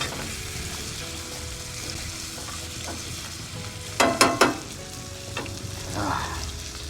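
Ribeye sliders warming in a hot pan, a steady close sizzle with a quick burst of three scraping stirs partway through and softer utensil movement afterward.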